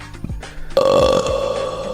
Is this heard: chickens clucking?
no